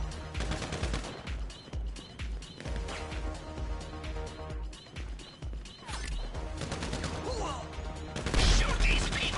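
Rapid gunfire in a video game shootout, loud cracking shots in uneven bursts and scattered single rounds throughout, ending in a heavier crash.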